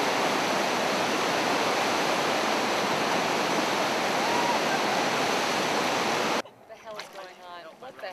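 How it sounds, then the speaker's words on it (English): A waterfall roars as a loud, steady, broadband rush for about six seconds, then cuts off abruptly, and voices talk in the quieter stretch that follows. "Waterfall just snuck up behind you."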